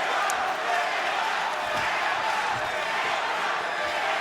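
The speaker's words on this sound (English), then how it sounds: "The crowd in AC chanting" A large arena crowd chants and roars at a Bellator mixed martial arts fight in Atlantic City, a constant, dense wall of voices with no clear pauses.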